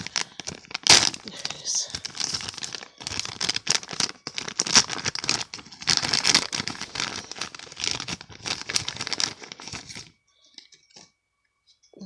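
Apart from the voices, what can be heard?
crinkling plastic packaging of a toy thylacine being opened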